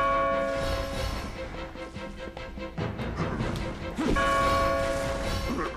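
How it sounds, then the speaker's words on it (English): Bell clanging in the video game Majin and the Forsaken Kingdom, several metallic strikes with ringing tones over game noise and crashes, fairly loud and close. "I'm ringing your bell."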